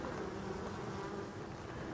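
Honeybees hum in a steady, dense drone at a forest hive entrance, with a hornet hovering nearby. The buzzing stays continuous and even, fairly faint, with no voices.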